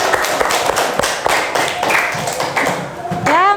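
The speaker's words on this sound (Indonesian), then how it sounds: "berikan tepuk tangan untuk kelompok 2" Classroom applause for a student group, a burst of brisk clapping from several pupils, close and lively, with voices mixed in before a rising tone at the end.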